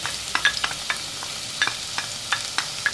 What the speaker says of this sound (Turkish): Soğanımı biraz kavuruyorum.